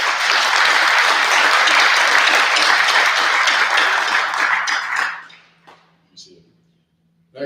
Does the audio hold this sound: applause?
yes